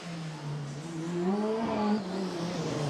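A Formula Student race car on a racing circuit, its engine note rising and falling as it passes, steady and moderately distant, with a brief swell in pitch and loudness midway and no voices.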